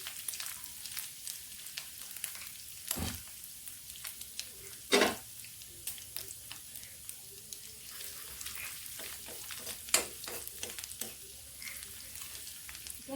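Ginger garlic paste and turmeric fry in a pan for an Assamese dish, giving a quiet, steady sizzle with scattered sharp clicks and a few louder taps of a utensil against the pan.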